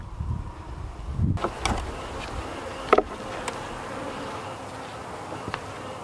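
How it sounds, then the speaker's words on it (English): Honey bees buzzing in the middle box of a hive during a beekeeping inspection, a faint steady hum close by, with a few soft clicks and knocks of the frames and no talk. "in the next box, the middle box, that looks like there's quite a few bees"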